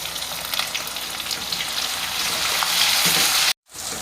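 Mixed vegetables with garlic fry in a pan, a dense, loud, continuous sizzle close by that cuts to near silence briefly before resuming, with no talking.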